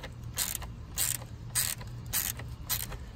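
Five rhythmic ratcheting bursts from a ratchet tool tightening the battery terminals on a 2003 Honda Odyssey, close and clicking at a steady pace with brief pauses between strokes.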